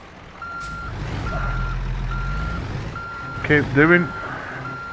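A truck reversing with a trailer in American Truck Simulator gives steady evenly spaced reversing beeps over a low engine rumble, with someone talking near the end.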